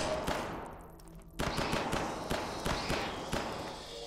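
Machine gun in the video game Hidden Deep: a quick burst, a brief lull with a mechanical reload clack, then sharp, evenly spaced shots echoing off rock walls, close and fairly loud.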